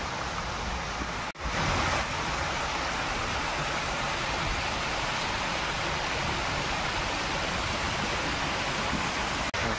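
Steady rushing water from a stream flowing behind the Baronda Devi temple, a dense broadband wash that holds constant throughout with no voices, broken only by a brief dropout near the start.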